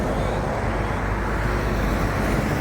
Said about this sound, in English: you'll have to forgive all the traffic noise